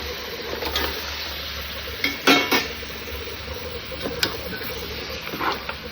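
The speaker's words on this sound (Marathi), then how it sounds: "आता याच्यामध्ये आपण हा मटण ॲड करणार आहोत." Mutton pieces go into cooked masala in a pan and are stirred, giving scattered scraping and clinking of a spoon against the pan with soft sizzling beneath, loudest in a brief burst partway through.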